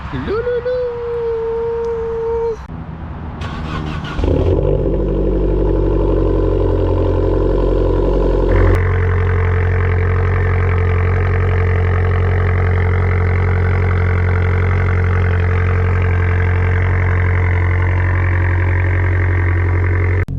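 Abarth 595 given a cold start: a brief starter whine and clatter, then the engine catches with a loud exhaust burst and settles into a steady, high cold idle that stays loud and close throughout.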